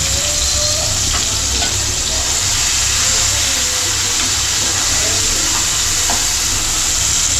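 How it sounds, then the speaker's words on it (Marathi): Tomatoes sauté in hot oil with a loud, steady hiss and crackle up close, and a few soft utensil taps along the way. "इकडे आपले टोमॅटो होतात आहेत आणि आवाज येतो"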